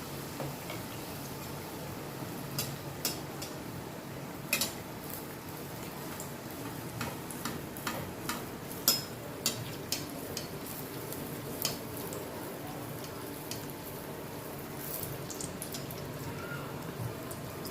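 Spoonfuls of batter fry in hot oil in a home kitchen, giving a soft, steady sizzle dotted with scattered small pops and crackles throughout.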